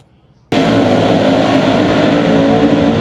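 After a brief quiet moment, a loud roar of sprint cars racing on the Lernerville dirt track bursts in and holds steady, a dense, throaty wall of motor noise.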